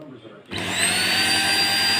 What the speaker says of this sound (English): I am going to be vacuuming this sofa